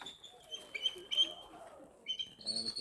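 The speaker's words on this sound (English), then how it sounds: "That's a bald eagle." A bald eagle calling outdoors in the USA, giving a series of thin, high-pitched chirping whistles in short bursts, moderately close and fairly quiet.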